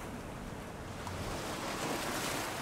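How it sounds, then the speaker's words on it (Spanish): Rough, churning ocean waves heard as a steady, loud wash of surf with a slight swell toward the end, carrying a windy edge throughout and no voices. "Las olas vienen y van."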